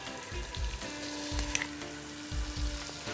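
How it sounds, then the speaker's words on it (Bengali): Green chilli, cinnamon, cardamom and ginger-garlic paste frying in a pot for chicken mandi rice, a steady close sizzle with low rhythmic thumps of stirring and a faint clink, no talking. "এবার এখানে আমি দিয়ে দিচ্ছি কাঁচামরিচ দিয়ে দিচ্ছি দারচিনি দু তিনটা এলাচ আদা এবং রসুন বাটা"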